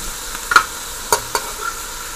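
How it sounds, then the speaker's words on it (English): Beef and vegetables fry in a pan with a soft, steady sizzle, broken by a few sharp clicks and scrapes of a utensil stirring, close and without talk. "So let these fry up a little"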